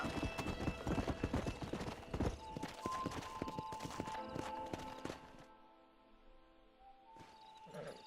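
Horse hooves clip-clop in Red Dead Redemption, a steady close rhythm of hoofbeats over game ambience that stops abruptly, leaving a quiet tail before a brief sound returns near the end.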